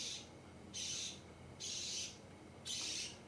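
Four bursts of bright, high chirping from a budgie, each lasting about half a second with short quiet gaps between, close and clear over a soft background.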